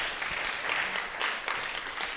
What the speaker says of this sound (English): can we give Gabriel a round of applause?